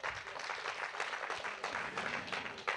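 Steady applause from a crowd, a dense patter of many hands clapping at moderate distance, fairly soft and unbroken throughout.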